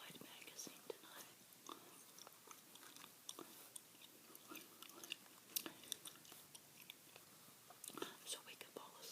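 Soft, close mouth clicks and wet smacks of bubble gum being chewed, an irregular patter of small sticky pops and crackles running steadily under hushed whispering.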